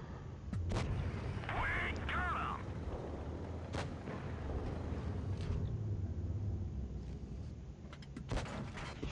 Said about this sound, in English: Taking fire from the far hill.